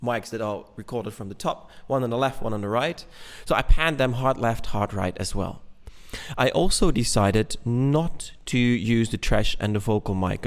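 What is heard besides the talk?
No everyday noises stand out.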